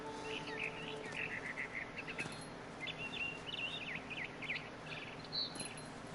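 Barn swallow chirping in the game What Remains of Edith Finch, a run of quick high twittering calls repeated over a steady background hum of insect-like ambience, moderately faint.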